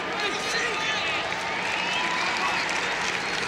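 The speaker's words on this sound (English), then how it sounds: "People applauding for Syracuse defense as Hofstra takes some time." Steady crowd applause fills a basketball arena during a 1993 Syracuse versus Hofstra quarterfinal game, a dense continuous wash of clapping heard from within the stands with no breaks.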